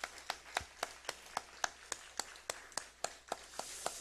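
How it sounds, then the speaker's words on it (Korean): A church congregation applauds in a steady rhythm, with about fourteen sharp, evenly spaced claps that sound faint and somewhat distant in a reverberant room. "우리 김은혜, 박세연, 이민아 청년 한번 일어나 주시면은 우리 한번 힘있게 박수 쳐서 우리 축하해 주시면 감사하겠습니다."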